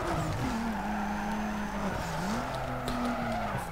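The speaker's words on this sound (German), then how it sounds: "da kann man noch einen geilen Drift runterlegen" Tires squeal steadily as a car drifts through a long slide in the street racing game Need for Speed Underground 2, the screech bending in pitch over a loud engine drone, with a brief break before the squeal resumes.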